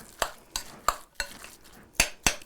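A spoon stirring food in a metal pot, six sharp scraping knocks against the pot at a loose regular pace, close and fairly loud with no talk.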